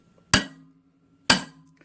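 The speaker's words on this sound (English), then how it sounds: "I'm gonna strike it with the bigger hammer." Two heavy hammer blows ring out about a second apart as a big hammer strikes a part on a McCormick Deering 3 hp engine, each sharp metallic crack leaving a short humming ring before silence.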